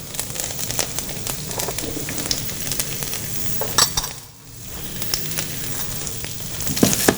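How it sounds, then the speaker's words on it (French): Vegetables fry in hot olive oil in a non-stick pan, giving a steady close sizzle with crackles and stirring scrapes throughout, dipping briefly midway before resuming. "Quand l'huile est bien chaude, on va mettre les légumes,"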